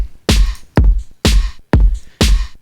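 A synth swells and cuts off in five rhythmic pulses, each sidechain-ducked sharply under a punchy kick drum, creating a pumping, breathing pattern.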